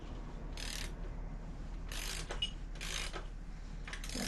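A ratchet loosening the Loctite-secured top bolt of a touring air shock on a 2008 Harley-Davidson Sportster 883C, giving several short bursts of rapid metallic clicking, close and fairly loud, with pauses between strokes.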